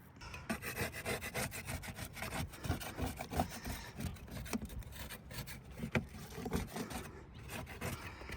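Steady rubbing and scraping of a cleaning pad working over an RV roof surface, with a continuous rasping rhythm of strokes, close and moderately loud, with no voices.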